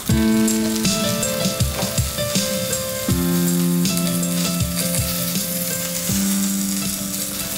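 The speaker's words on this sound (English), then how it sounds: "let those sear for about 5 to 8 minutes" Beef crowns sear in a hot pan with a loud, continuous sizzle and crackle that stays steady throughout, with background music playing underneath.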